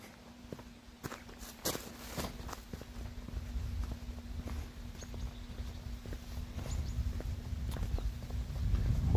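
Horse hooves clip-clop at a steady walking pace on a street in a Swedish residential area, moderately close, with a faint steady hum underneath and the sound growing slightly louder toward the end.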